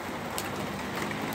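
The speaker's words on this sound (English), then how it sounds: "Like, it's not raining, then it's raining, then it is again." Steady rain falling during a passing storm in Oregon, a dense, even patter that holds constant throughout with no break, sounding close and moderately loud.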